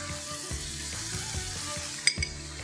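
Chicken sizzles and fries with chopped garlic in a hot pan, a steady close crackle with soft stirring scrapes and a brief clink of utensil on metal near the end.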